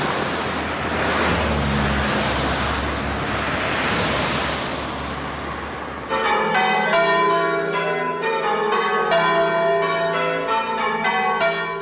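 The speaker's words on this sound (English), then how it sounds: "the big village wedding's a success. And the bells have never sounded better." Village church bells ring out for a wedding in Bentley, a sustained clangour of overlapping tolls that enters halfway through after a broad rushing noise, then peals steadily and loudly with no talk.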